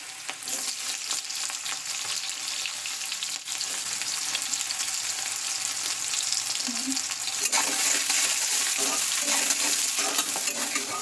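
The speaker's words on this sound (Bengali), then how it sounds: "তো এবার পেঁয়াজটা হালকা করে ভেজে টমেটো আর দই দিয়ে পেস্ট করে নেব" Chopped onions frying in oil in a home kitchen: a steady, close crackling sizzle throughout, with light stirring scrapes, growing slightly louder partway through.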